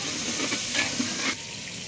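Ginger garlic paste being stirred into mutton curry in a pot, with a brief close bubbling sizzle and a few soft spoon scrapes before it quiets.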